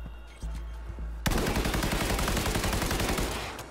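A fully automatic gun fires in Cyberpunk 2077 as a loud rapid continuous burst lasting a few seconds, after quieter game ambience and small clicks.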